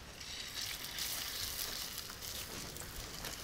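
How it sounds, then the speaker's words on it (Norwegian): A halibut fillet frying in hot oil in a pan, giving a steady, soft sizzle with faint crackles throughout and no voices. "Og alltid når det steker fisk, så liker jeg å begynne med litt olje."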